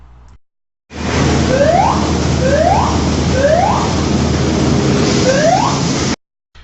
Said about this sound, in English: When a blow valve alarm is activated, personnel must use caution around blow line flanges.